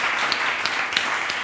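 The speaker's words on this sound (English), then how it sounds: "a big applause for the panel" An audience applauds a panel on a conference stage, steady massed clapping with a few sharper individual claps standing out, fairly close and brief.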